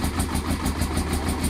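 A motorcycle engine, just started after many failed attempts, runs at a steady idle with an even, pulsing putter throughout, close and fairly loud.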